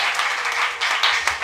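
A church congregation applauding, a brief burst of dense, even clapping from many hands that fills the whole moment.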